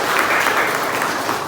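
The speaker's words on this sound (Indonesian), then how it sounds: "Tepuk tangan untuk mereka berdua." A classroom audience claps for two people during a teaching practice session, a brief, dense and even burst of applause heard alone at close range.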